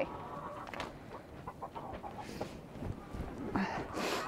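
Chickens cluck softly in a small enclosed coop while people talk nearby, with a few louder bird calls near the end.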